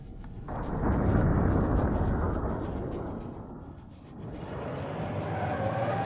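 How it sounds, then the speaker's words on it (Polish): A bus slams into a car in slow motion in the BeamNG Drive driving game, a loud, sustained roar of engine and crunching impact noise that swells, dips briefly, then continues. "mogę wjechać tym autobusem w jakieś auto na zwolnionym tempie"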